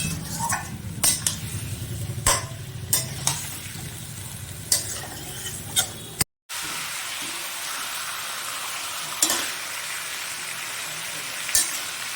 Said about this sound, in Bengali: চিকেন কড়াইতে দিয়ে দিচ্ছি। কড়াইতে দিয়ে এরপরে আমি এগুলো কষবো।